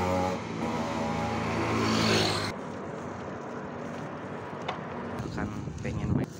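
Motorcycles passing along a roadside, with a loud engine roar swelling over the first two and a half seconds before cutting away to quieter traffic rumble and background noise.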